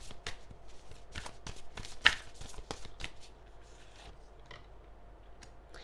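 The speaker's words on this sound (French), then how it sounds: "Je vais juste tirer encore quelques cartes" Tarot cards shuffled and drawn close by in a quiet room: quick papery riffles, soft slides and light taps, with one sharper snap standing out, and no voices.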